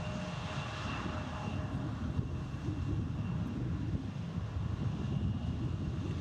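An Emirates airliner at DFW airport produces a steady, distant low jet roar under a stiff north wind buffeting the microphone.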